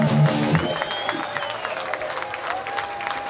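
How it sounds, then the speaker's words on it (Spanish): A crowd claps and cheers for a rock cover band at a radio station's anniversary concert, a dense roomy wash of applause with a sustained tone ringing through it and a brief voice at the start. "una ovación grande, quiero escuchar"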